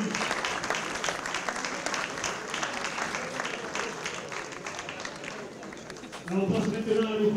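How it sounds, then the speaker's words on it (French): A crowd applauds the coaching and medical staff of a rugby side at a Sarlat exhibition match, steady clapping running throughout and swelling louder near the end, with voices mixed in. "On les applaudit"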